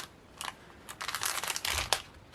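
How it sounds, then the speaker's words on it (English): Scissors snipping carefully close along the bottom of a paper bag, a few crisp crinkling cuts and paper rustles up close, fairly quiet and without talk. "So if you just want to carefully cut really close, just like that."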